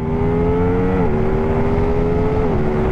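An Aprilia RS 660 sport motorcycle on the Circuit de Fay-de-Bretagne track, its engine howling loud and close in a steady high rev, with two brief pitch dips as it shifts up.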